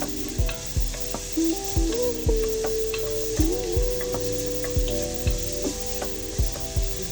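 Chopped onion sizzles and fries in a pan as the base for a risotto, a steady hiss with repeated soft clacks of a spoon stirring against the pan, close and alone.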